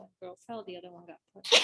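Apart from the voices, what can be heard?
sneeze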